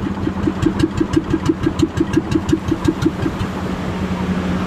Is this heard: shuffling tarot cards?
no